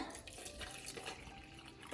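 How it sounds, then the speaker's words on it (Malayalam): Water poured into blended carrot, orange and ginger juice, a soft continuous splashing pour, close but quiet, steady for about two seconds, without voices. "ഞാൻ ഇതിലേക്ക് കുറച്ചും കൂടെ വെള്ളം ഒഴിച്ചു കൊടുക്കുകയാണ്"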